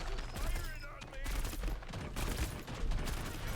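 Rapid gunfire bursts in the hero shooter game Paladins, fired from a three-round weapon, crackling in short volleys mixed with game effects and faint background tones, moderately quiet and fairly dense.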